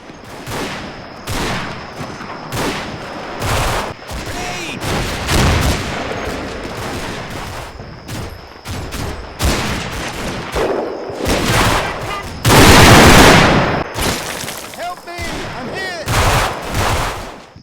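Dense, loud gunfire from the WWII-era Italian campaign in Combat Mission: Fortress Italy, with repeated rifle and machine-gun bursts and heavier blasts, crackling almost without pause and swelling into a violent volley near the end.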